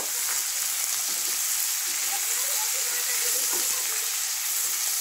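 Upma ingredients sizzle and fry steadily in a pan, a dense, even crackle with soft scraping from stirring throughout and no talking.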